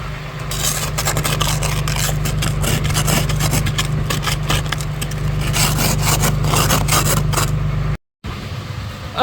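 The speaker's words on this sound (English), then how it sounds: "Luckily, I was able to find this little ice scraper" A small ice scraper scrapes ice off a truck windshield in loud, rapid, gritty strokes. An idling engine drones steadily underneath. The scraping briefly stops near the end.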